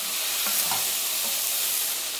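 Gyros meat sears over high heat in a Dutch oven, giving a constant loud sizzle and hiss with a few faint scrapes and no talking.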